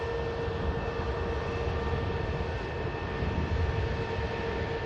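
An SAS airliner holding on the runway at Manchester Airport, its engines giving a steady, even roar at a moderate distance with no rise or fall, and no voices.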